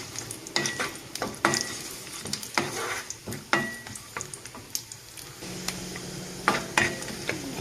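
A palm tuber laddu mixture being stirred in a pan, with repeated scraping and clinking strokes of a spoon against metal at an irregular pace over a soft sizzle, close and alone.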